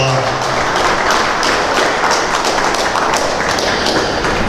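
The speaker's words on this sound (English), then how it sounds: "let's give a nice round of applause for all the people that have had a lot of efforts in putting this show on." Audience applause at a Holstein and Red & White cow show, dense steady clapping from a crowd with a few sharper nearby claps, sustained throughout without talk.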